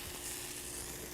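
Cooking food sizzles steadily in a pan of hot frying oil for fish tacos, a continuous close crackling hiss with no talk over it.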